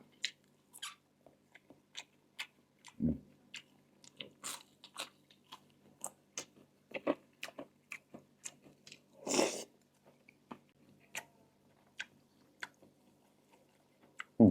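Close, quiet chewing of food eaten with chili: irregular crunchy bites and wet mouth clicks spread across the stretch, with one louder crunch near the middle.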